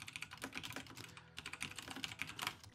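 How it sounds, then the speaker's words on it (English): Rapid keystrokes on a computer keyboard while playing the game Stories Untold, quiet close clicking in quick bursts with a brief pause midway. "So do I have to type everything?"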